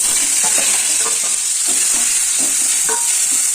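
Vegetables tipped back into a hot pan of oil for a drumstick flower dish, a loud, constant sizzle with soft repeated stirring scrapes throughout, no voices.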